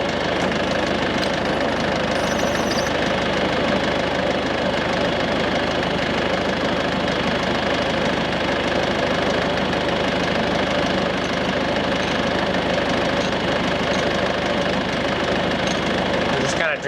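A John Deere tractor engine runs steadily while powering a drill that bores an earth anchor into the ground, a loud continuous rumbling drone with mechanical knocking, heard close throughout.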